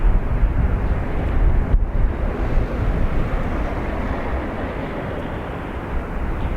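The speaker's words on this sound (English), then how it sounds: "EI 133 off to Boston, an A330 300 operated by Aer Lingus." An Aer Lingus Airbus A330-300 takes off from Dublin Airport for Boston, heard as a loud, broad engine roar with wind buffeting the microphone. The roar stays heavy for several seconds and then eases slightly.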